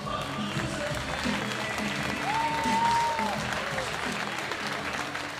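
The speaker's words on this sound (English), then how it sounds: "Big round of applause, please, for Charlotte Crumpet." Steady audience applause, a continuous wash of clapping from a crowd that swells slightly and then holds, with a faint voice and some music notes audible underneath.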